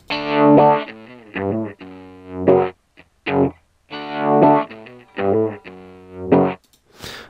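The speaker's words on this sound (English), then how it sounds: "Let's keep the distortion constant, but let's take a bandpass filter here and set the frequency to modulate." Heavily distorted guitar notes through a modulated bandpass filter in Reason 7.1, the sweeping filter making the tone swell and wah, played in several phrases separated by short gaps.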